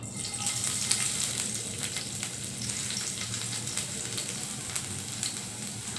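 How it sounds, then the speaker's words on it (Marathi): Garlic sizzles and crackles in hot oil in a pan while methi bhaji is started, a steady close frying hiss with no talking. "तेल गरम झालंय आता आपण या लसूण घालूया"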